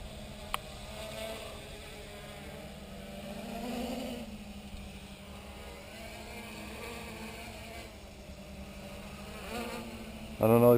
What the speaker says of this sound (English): So if I move the rudder, I don't know why, but the motors spin up.